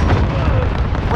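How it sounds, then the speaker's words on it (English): Cluster strike explosions roar close and loud in Modern Warfare, a dense, continuous rumble of blasts with no quiet gaps. "Allied cluster strike inbound"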